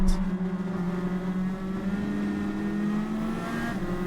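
A race car engine in Gran Turismo 7 holds a steady, droning high-rev tone that shifts slightly in pitch as it accelerates, continuous and fairly close, with no talk.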